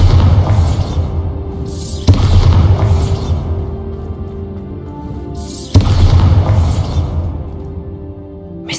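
Bombarda spell blasts in the Hogwarts Legacy video game: three loud, close booming explosions at even intervals, each with a sharp crack and a long rumbling tail, no voices.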